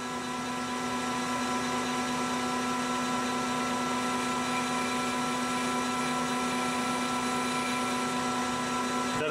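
A lathe turning an inside chamfer in 7075 aluminum, a loud, steady machine whine with strong sustained tonal hum and harmonics running unbroken for the whole stretch, close to the microphone with no talking.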